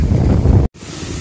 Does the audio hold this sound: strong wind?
yes